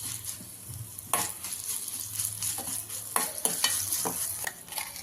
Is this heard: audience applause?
no